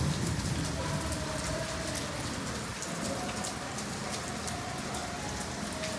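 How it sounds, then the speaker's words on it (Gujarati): Heavy monsoon-style rain pours outside a rooftop terrace, a dense, steady hiss of drops on surfaces that continues without a break. "કારણ કે બહાર બહુ વરસાદ પડે છે."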